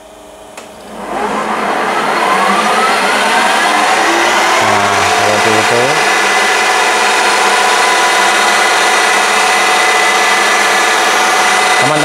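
A mini lathe is switched on for a turning job and spins up about a second in, its motor whine climbing in pitch, then running as a loud, steady, close-up drone with no talking.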